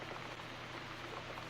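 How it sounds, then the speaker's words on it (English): Steady rain pours in a horror video game scene, a soft continuous hiss of drops with no breaks, fairly quiet and alone. "It's raining blood, Joe."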